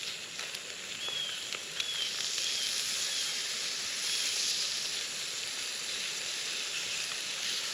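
Bannock frying and burning in a lightly greased pan over a campfire, a steady bright sizzle and hiss with a few small pops, close and continuous.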